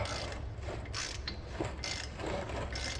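Ratchet clicking during engine work on a 1988 Dodge Power Ram, a steady run of close mechanical clicks over a constant low hum, with no talking.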